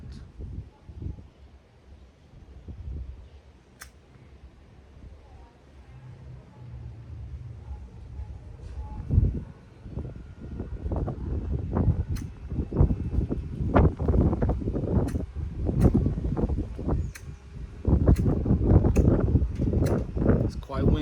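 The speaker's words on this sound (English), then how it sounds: "It's quite windy." Wind gusting outdoors during an attempt to light incense, a steady rumbling blow that builds and grows stronger and choppier in the second half, with a person talking over it.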